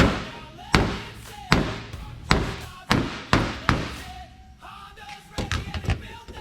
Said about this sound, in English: You're gonna bang it, bang the dust out.